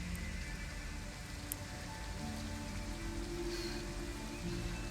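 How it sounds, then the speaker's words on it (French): Steady rain patters on a surface in the video game Detroit: Become Human at night, with a low background hum, soft and continuous, with an occasional louder drip. "En plus il pleut et tout"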